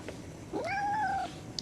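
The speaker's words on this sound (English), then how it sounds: "Give me a good meow." A pet cat gives a single clear, close meow with a rising then falling pitch, heard alone in a quiet room with no talking over it.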